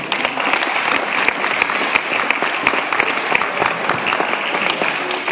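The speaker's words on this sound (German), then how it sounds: "Ein Applaus." Steady, dense applause from an audience at a judo award ceremony, sustained and fairly loud throughout without a break.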